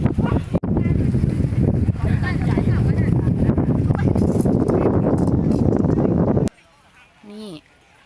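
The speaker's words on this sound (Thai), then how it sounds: "แต่ลมแรงมากๆเลย" Strong wind at a campsite near a waterfall during tent pitching roars across the microphone in steady, heavy gusts for several seconds, then drops away abruptly, leaving a quiet pause before a brief voice is heard.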